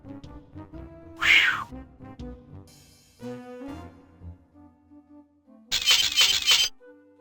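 Cat commotion in the DOS adventure game Day of the Tentacle, a sudden screeching yowl followed by a loud crashing clatter, over tinkling background game music.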